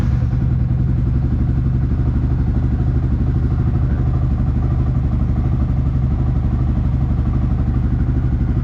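A motorcycle engine running on Shell Ultra oil drones steadily and loud for nearly nine seconds, an even mid-pitched running note with a fast regular pulse and no obvious rev changes.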